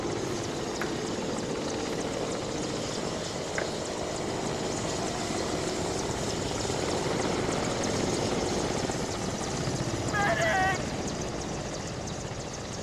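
A helicopter in a video game drones steadily throughout, a continuous rotor-and-engine rumble, with faint voices and a brief chirp near the end.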